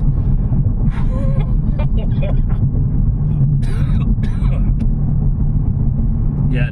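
A 500HP BMW M140i fitted with an M Performance limited-slip differential is driven hard. Its engine gives a loud, steady, deep rumble from start to finish, with a few brief higher sounds scattered on top.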